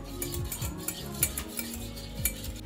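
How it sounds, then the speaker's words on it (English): Egg and salt being mixed in a bowl for pancake batter, a utensil scraping and tapping against the bowl in irregular strokes, close and moderately quiet, with no talking. "And now I'm going to mix the egg and the salt."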